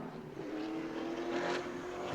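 A Pro Late Model stock car running a qualifying lap at New Smyrna, its engine a faint, steady distant whine that swells slightly as it comes down the stretch.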